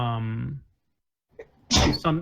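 A single sharp sneeze close to the microphone during a casual podcast conversation, coming right after a short pause that follows talk, with a brief voiced burst following it.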